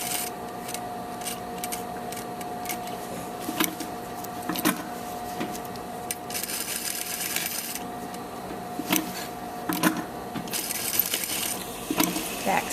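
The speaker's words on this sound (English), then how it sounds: "So stitch the perimeter." A sewing machine runs steadily as it stitches around the perimeter of a triple non-roll elastic waistband, with a continuous mechanical hum and scattered sharp ticks and clacks. The sound is close and even throughout.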